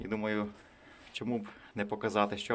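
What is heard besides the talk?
None of the usual background noises is heard.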